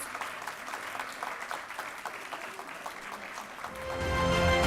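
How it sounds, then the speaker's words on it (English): An audience at a community event gives a sustained round of applause, a dense even patter of many hands that swells louder toward the end. "May I ask the audience for a big round of applause for the incredible contributions of each of our valued"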